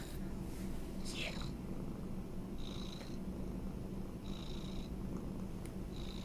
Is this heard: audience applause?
no